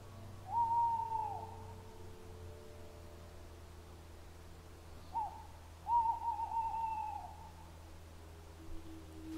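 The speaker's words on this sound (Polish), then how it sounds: "Zimą w okresie godów możemy usłyszeć jego głos terytorialny." A tawny owl gives its territorial hooting call on a still winter night during the mating season: two clear, wavering hoot phrases, moderately loud over a steady low background hum.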